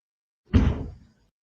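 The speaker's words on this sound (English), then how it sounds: "This is a car door." A single muffled thud of a car door shutting, brief and moderately loud, followed by a short fading echo in otherwise quiet surroundings.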